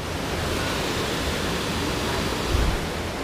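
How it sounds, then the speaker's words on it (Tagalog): Steady broadband rush of a river at Sitio Cacawan, Brgy. Maruclap, flowing continuously and close, with no voices over it and a brief low thump near the end. "Ang ganda pala ng ilog dito."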